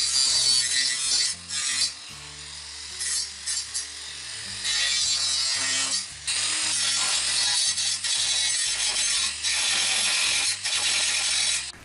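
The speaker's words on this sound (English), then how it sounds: "Grind to remove all sharp edges and loose metal." A grinder works on boat trailer metal to take off sharp edges and loose metal, a loud harsh rasping that runs in long bursts with short pauses as the tool lifts off, close up and with no voices.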